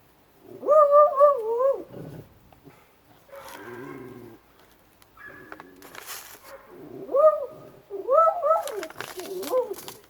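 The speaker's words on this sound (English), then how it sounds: "Lucy, it is not nice to bark at people like that" A dog barks at a neighbor walking past during onion seed planting, giving several loud, close yelping barks in separate bursts with pauses between them.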